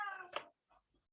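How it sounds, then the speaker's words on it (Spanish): A house cat lets out one short, faint meow, wanting to be let out, followed by a couple of tiny soft sounds in a quiet room. "Ese es mi gato que quiere salir."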